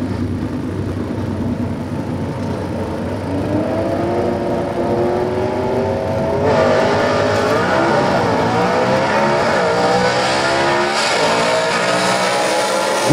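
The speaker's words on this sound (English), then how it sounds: "Good drag race, folks." Gasser drag race cars, including a 1964 Mercury Comet Caliente, roar down the strip, their engines loud and sustained with rising revs and gear changes, and the sound grows louder midway with no talk.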